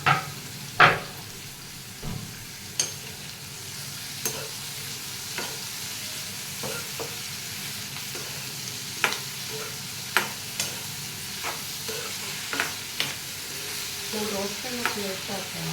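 Cucumber pieces frying in a pan for dosakaya roti pachadi, a steady soft sizzle under repeated sharp clinks and scrapes of stirring at an irregular pace.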